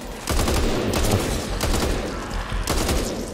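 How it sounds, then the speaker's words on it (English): Gunfire in the zombie shooter Back 4 Blood, where the player is switching to a shotgun: dense, continuous volleys of loud shots with repeated sharp blasts, no talk over them. "I might try the shotgun."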